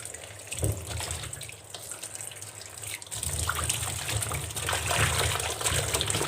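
Running tap water splashes steadily over vegetables being washed, a continuous gushing wash with brief clatter, growing louder halfway through.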